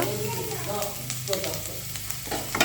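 Ginger and garlic paste frying in a pan for khichuri, a close, steady sizzle with light stirring and scraping over it.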